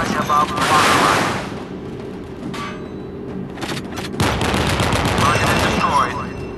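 Rocket launches and gunfire from a Ticonderoga-class cruiser, USS Vella Gulf, in the Modern Warships game: two loud bursts of roaring blast noise, separated by a brief quieter stretch with a sharp crack.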